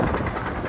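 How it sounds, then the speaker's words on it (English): A parking-lot tram at Six Flags Over Georgia rumbles past on the adjacent road, a brief, loud, close engine-and-rolling drone. "The road that is right next to us is where the tram travels on"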